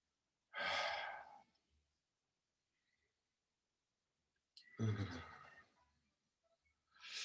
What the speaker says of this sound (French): Bâillement.